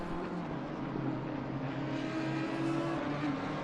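GT3 race cars in an Imola ERS GT3 Series racing game, including an Audi, with a steady loud engine drone that rises slightly as the cars accelerate, continuous throughout with no talk.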